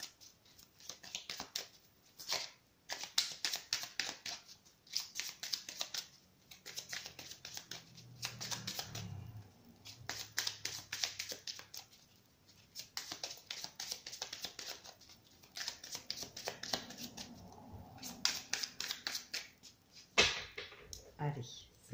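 Oracle cards are shuffled and cut by hand in a long series of soft, rapid papery riffles and flicks, close and fairly quiet, with brief pauses between runs.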